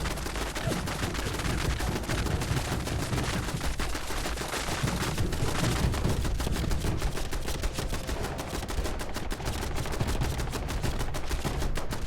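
Rapid, sustained automatic gunfire in Fallout 76, dense volleys of shots rattling continuously at a loud, steady level with no voices.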